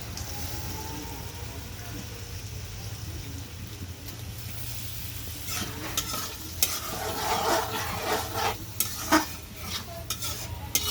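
Fish sautéed in a pan with yogurt powder for a mixed-vegetable fish curry: a constant hum and faint frying at first, then louder scraping and stirring strokes with a crackling sizzle in the second half, heard up close.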